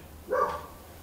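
A dog gives a single short bark indoors, a mid-loud burst against a quiet room with a faint steady background tone.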